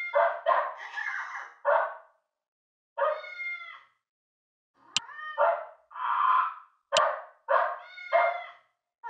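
A cartoon puppy in the Barbie Pet Rescue video game barks and yips in short bright bursts, several quick barks in a row, then pauses before more barks, loud and close with no talk.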